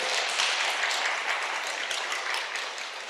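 A church congregation applauds during a sermon on healing, a dense, steady wash of many hands clapping at once that fades slightly toward the end, with no clear speech on top.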